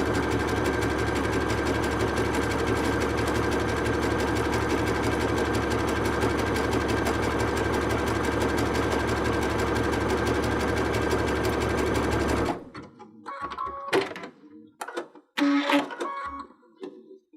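A sewing machine runs a steady, continuous zigzag stitch over welt cord, a dense mechanical whir lasting about twelve seconds before stopping abruptly, followed by scattered quieter handling clicks and rustles.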